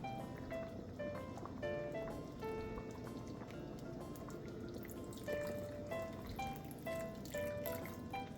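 Cornstarch slurry, two spoonfuls of cornstarch mixed with cold water, is poured into simmering chicken feet soup seasoned with sesame oil, giving a steady liquid trickle with small splashes and clinks throughout, with no talking.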